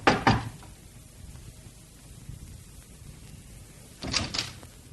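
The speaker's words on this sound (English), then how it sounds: "But instead, he knocked." Two short bursts of knocking on a door, one at the start and another about four seconds later, each a quick cluster of raps, fairly close, over quiet room hiss with no one speaking.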